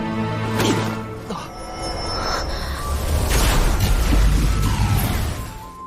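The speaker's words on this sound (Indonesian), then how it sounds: "Tak lama muncul cahaya berwarna kuning di langit yang menyebabkan ledakan yang cukup keras." An animated donghua explosion, set off by a yellow light in the sky, booms and crashes in several heavy bursts, loudest midway, layered over a dramatic musical score.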